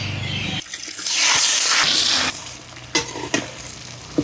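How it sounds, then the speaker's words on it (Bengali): Oil sizzles in a wok being heated to fry shrimp for a tomato shrimp dish, a bright crackling hiss swelling in the middle, with clinks and stirring knocks around it. "টমেটো দিয়ে চিংড়ি মাছ ভুনা করার জন্য কড়াইতে তেল দিলাম।"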